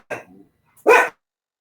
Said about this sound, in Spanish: Se enojó el perrito.